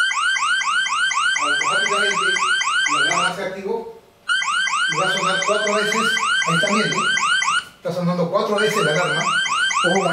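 A smart motion-detecting security device sounds a loud, repeating electronic alarm tone in rapid warbling bursts, close and continuous, with two short pauses as the pattern cycles.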